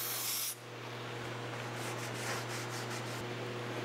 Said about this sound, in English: A little bit of brake clean type product or rubbing alcohol. Clean that surface off real good.